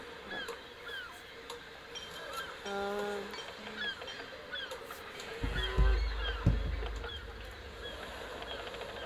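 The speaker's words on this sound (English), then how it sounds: "These seagulls are really relaxing." Seagulls call repeatedly with short squawks and cries, mid-distance, over a steady outdoor background with a low rumble and faint voices.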